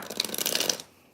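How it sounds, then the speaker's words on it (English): A tarot card deck being shuffled by hand, a quick riffling burst of crisp, papery flutters lasting under a second before stopping abruptly, close and alone with no talk. "let me shuffle my intention into this deck"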